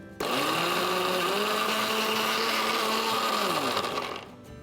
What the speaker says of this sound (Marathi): याला मिक्सरच्या भांड्यात टाकूया आणि वाटून घेऊया।